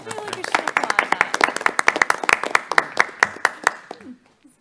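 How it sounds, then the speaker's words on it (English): Applause at a library board meeting: a small group clapping in quick, uneven bursts, close and clear, with brief talk at the start before the clapping tapers off and stops near the end. "I feel like we should applaud that."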